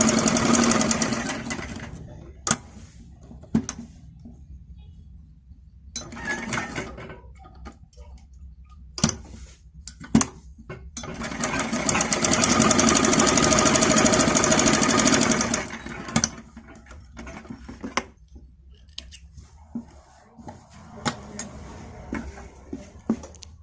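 A sewing machine stitches a fabric strip onto a baby frock in several separate bursts of rapid whirring, with ticks and handling clicks in the quiet gaps between runs.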